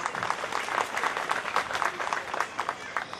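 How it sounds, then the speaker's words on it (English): A university orientation audience at ULAB applauds after a cultural performance, a dense, even round of clapping from many hands that sounds moderately distant and fairly soft, continuing throughout. "A big round of applause for Ulab Sanskriti Shamshad one more time,"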